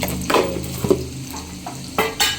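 Onion frying in a pan, with a steady low sizzle broken by a few short bursts of stirring and scraping, close and fairly loud, no voices.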